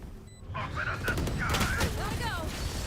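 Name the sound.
gunfire exchanged in the video game Valorant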